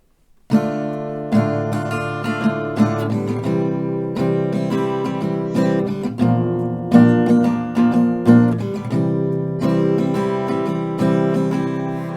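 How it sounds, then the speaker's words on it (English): Acoustic guitar strumming a chord progression, steady rhythmic strokes with bright ringing chords, played close and alone for about twelve seconds. "let's go through one chord progression here with the strumming"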